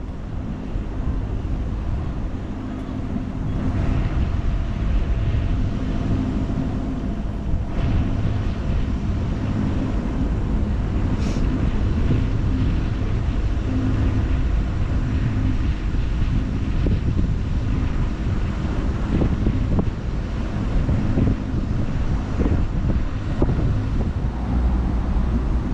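Boat engine on the Norfolk Broads pushing against a strong current, a steady loud low drone heavily buffeted by wind noise on the microphone, continuous throughout.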